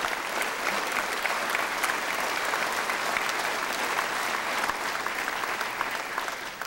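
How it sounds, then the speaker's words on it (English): A full legislative chamber gives a sustained round of applause for teachers in Louisiana, many hands clapping steadily and fairly loudly from start to finish, with a faint crowd murmur underneath. "I think we should give a round of applause for our teachers in Louisiana"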